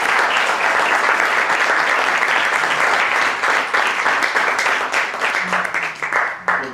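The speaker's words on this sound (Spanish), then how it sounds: "vamos a agradecerles con un pequeño aplauso que estén aquí" Audience at a book presentation applauding, a dense burst of clapping from a room full of people that holds strong and then thins into scattered claps near the end.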